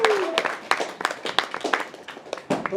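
An audience at a poetry reading claps, with distinct close, uneven hand claps forming a lively round of applause and a brief whistle-like tone at the start.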